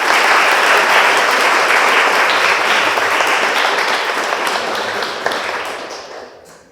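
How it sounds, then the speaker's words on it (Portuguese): Dense, loud applause from a full house at a screening event for a short film, honoring the film's producer; sustained clapping that gradually fades out near the end, with no talk over it. "Uma salva de palmas para Júlio Ribeiro."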